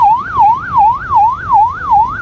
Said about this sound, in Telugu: పోలీస్ ఆయన అయితే చాలాసేపటి నుంచి సైరన్ వేస్తున్నారు